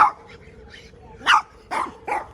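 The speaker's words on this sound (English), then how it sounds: "Cute little dog." A small dog lets out several short, sharp barks close by on a residential street in Sebring, Florida, with brief gaps between them.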